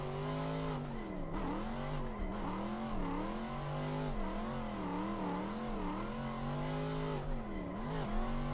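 A Mazda Miata driven in a racing simulator game on a Fanatec wheel setup, with traction control switched off. The engine revs rise and fall continuously as it climbs and drops through the gears, loud and steady with no talking.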